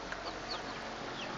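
A backyard flock of chickens clucks softly and intermittently during feeding, faint chatter against a steady background hiss with no one talking.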